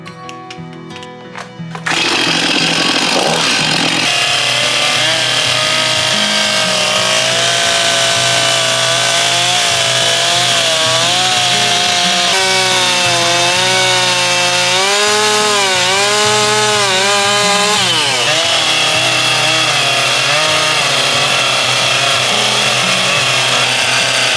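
Chainsaw cuts through wood to shape the seat of a log bench, running loud and steady for over twenty seconds after a brief quieter start, its pitch rising and dipping as the blade works through the log.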